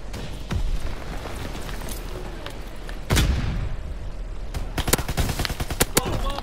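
Gunfire in Call of Duty WWII, with scattered single shots, a heavy blast and then quick overlapping bursts of rifle and automatic fire growing busier toward the end.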